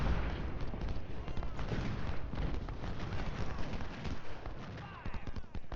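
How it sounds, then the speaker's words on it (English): Howitzer artillery fire in Ultimate General: Civil War at the Battle of Shiloh, a dense, muffled stream of booms and crackling shots running throughout at moderate distance, fairly quiet. "these are howitzers"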